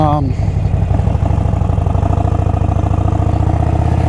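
A Harley-Davidson Iron 1200 motorcycle riding along, its engine a loud steady low rumble with rapid pulsing throughout, and a rider talking over it.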